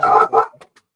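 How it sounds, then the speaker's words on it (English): A dog barks two quick loud barks close by, followed by a couple of faint trailing yips that fade into silence. "Oh, we got a Borkin dog"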